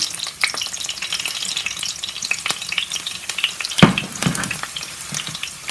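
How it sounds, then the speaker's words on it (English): Chopped onions fry with steady sizzling crackle in a hot pan, with occasional scraping clicks of a utensil stirring them; close and continuous, no talking. "Now it is hot enough, so I'm going to throw in those onions there."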